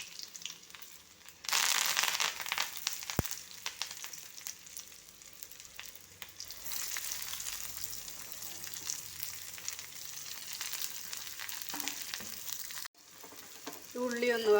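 Mustard seeds fry in a hot pan with a bright, steady sizzle, and it turns louder and crackly partway through, with a sharp tap and faint scraping like a spoon stirring.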